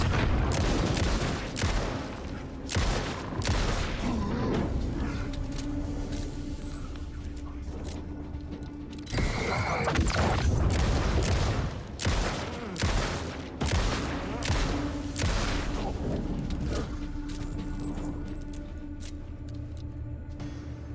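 Repeated gunshots in the video game Alan Wake II ring out in sharp, spaced bursts over a long stretch, with echoing tails and a low ambient hum beneath; a faint voice appears now and then.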